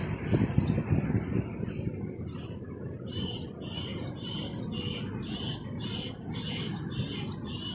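Wind at Banyuls-sur-Mer rumbles and buffets the microphone, strongest at the start, while birds chirp in a quick repeating pattern in the background.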